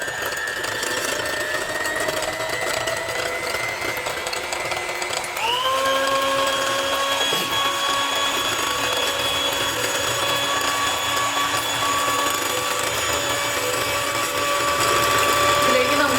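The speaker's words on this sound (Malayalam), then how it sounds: "ഇത് ആദ്യം നമുക്ക് ബീറ്റ് ചെയ്തെടുക്കാം" An electric beater whisks eggs with sugar for a chocolate sponge cake, holding a steady motor whine that jumps to a higher, stronger pitch partway through and then runs on evenly, close and loud.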